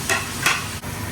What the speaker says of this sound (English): I'm just adding the onions in now, which I've chopped. I'm just going to slightly fry them.